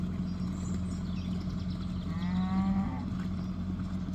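A group of heifers on a livestock farm lows with drawn-out moos, one clearer call rising midway, over steady low background rumble.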